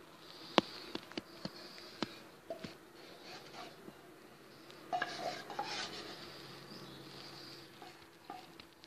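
Cake mixture being spread over a layer of no-cream cold cake with a utensil, giving soft scraping and stirring strokes punctuated by a few light clinks against the pan, quiet and close with no talking.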